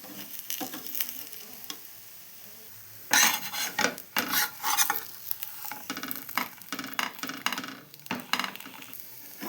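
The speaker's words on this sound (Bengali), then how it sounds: "এই যে দেখো ক্ষীর দিলাম, প্রত্যেকটা এইভাবে ভেজে নেব।" Kheer-filled patishapta rice-flour pancakes frying in a pan, with repeated scraping and rubbing of a spatula against the pan over a soft sizzle, the strokes busier in the second half.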